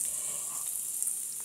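Steak with some fat left on it sautéing on a flat top grill, giving a steady, close, even sizzle with no talking.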